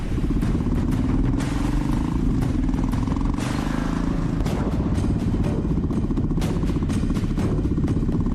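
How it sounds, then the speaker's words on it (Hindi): A motorcycle rides past on a village road, its engine droning loud and steady with rattling clatter throughout, rising and falling as it goes by. "ये जो गुजरी वो कांति की बाइक है ना?"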